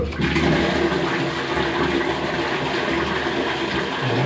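A newly fitted toilet with half and full flush options flushes in a wet room, a steady close rush of water lasting about four seconds, with no voices.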